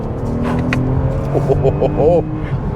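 A 2021 Toyota Avalon TRD revs and accelerates with a throaty catback exhaust note, the pitch climbing in short pulses under steady road noise.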